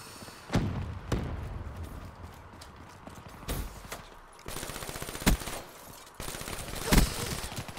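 Video game gunfire comes in short bursts and single sharp shots amid rhythmic clopping hoofbeats, moderately loud and repeated throughout.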